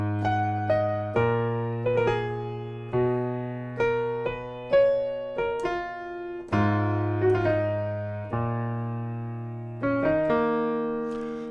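The right-hand melody of a song played on a solo piano, clear notes and sustained chords ringing out one after another at a slow, steady pace.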